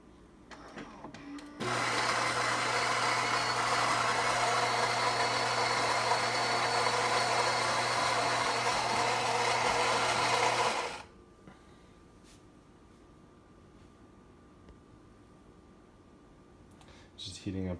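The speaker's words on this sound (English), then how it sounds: "Just heating up the steamer for the froth milk." A Philips 3100 super automatic espresso machine heats its steamer for frothing cappuccino milk: a loud, steady mechanical hum and buzz kicks in, holds for about nine seconds, then cuts off into quiet.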